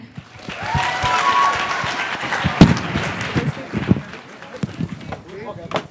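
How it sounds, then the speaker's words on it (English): Audience applause at an India Nite community event, broad and sustained clapping over a murmuring crowd with a few sharper claps and bangs, fading slightly toward the end. "Let's have a round of applause for them"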